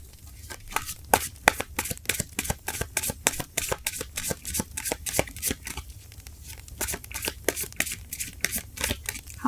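Tarot cards being shuffled by hand in quick repeated riffling bursts, close and crisp, with a steady rhythm of papery flicks running throughout.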